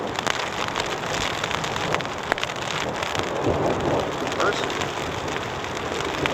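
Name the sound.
rain and thunderstorm on tents while camping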